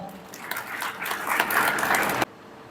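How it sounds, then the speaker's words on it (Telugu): Crowd clapping at a public political gathering in a constituency, a dense, moderately loud patter building over a couple of seconds and then cutting off abruptly. "ఒక్కసారి చప్పట్లు కొడతారా"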